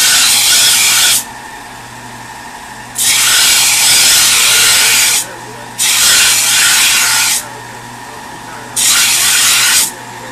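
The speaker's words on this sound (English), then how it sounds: "So now I'm going to go back and sharpen it." Metal tool being sharpened on a grinder in a repair workshop: loud, close harsh grinding in four long passes of a second or two each, separated by a steady motor hum between contacts.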